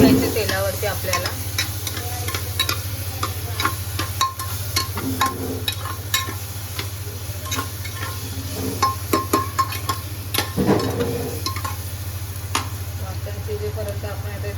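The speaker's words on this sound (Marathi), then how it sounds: "वाटण पण छान शिजवून घ्यायचं तेलावरती आपल्याला" Masala paste frying in hot oil in a pot for prawn rice, stirred with scraping, clattering strokes over a constant close sizzle and a low hum, with no talk.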